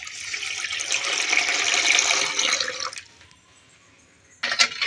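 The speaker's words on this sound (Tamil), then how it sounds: "தண்ணி ஊற்றிக்கலாம்" Water pours steadily onto sugar and Rasna drink powder in a kitchen container for about three seconds, a close, splashy rush that stops abruptly, followed by a short clink near the end.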